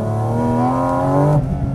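Porsche GT4 RS engine pulling hard uphill on a climbing road, a loud, rising, smooth high-revving wail that cuts off abruptly near the end as the throttle lifts.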